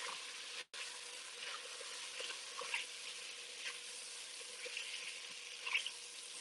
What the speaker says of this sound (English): I'm going to add my spices. Stir that and give it a nice toast.